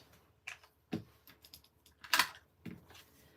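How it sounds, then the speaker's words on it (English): Scissors cut freehand around a stamped paper image, making a few sharp, close snips at uneven intervals against a quiet background. "And then we're going to cut it, fussy cut, freehand."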